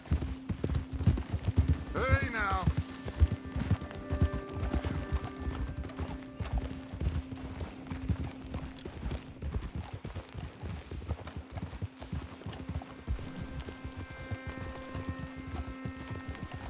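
Horse hooves clip-clop at a steady walking rhythm in Red Dead Redemption 2, close and fairly prominent, with a brief whinny early on and people talking over the hoofbeats.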